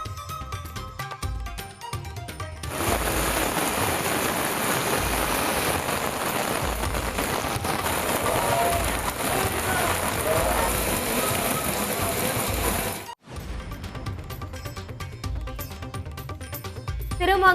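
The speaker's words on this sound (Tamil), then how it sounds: "திருப்பதியில் 1 மணி நேரத்திற்கு மேலாக கொட்டிய கனமழை." Heavy rain pours for over an hour onto a temple complex in Tirupati, a loud dense roar that begins abruptly, holds steady and drowns out everything else, then cuts off near the end.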